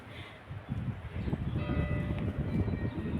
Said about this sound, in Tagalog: alauna na ata kasi bell na yung church